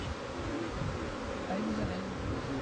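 Honeybees at an apiary hive, with colonies being expanded and young queens raised, give off a dense, continuous droning hum with faint wavering tones, close and steady throughout.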